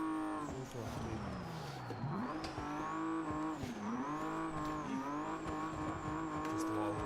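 A racing car engine in a video game revs at full throttle, its tone rising and falling with gear changes and corners, loud and continuous with a faint tire squeal.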